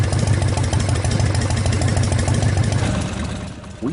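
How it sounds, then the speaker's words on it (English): A fully warmed-up Harley-Davidson V-twin fitted with an S&S Super E or G carburetor idles close and loud, a steady throbbing lope that holds evenly before easing slightly at the end. "With the engine fully warmed up and idling"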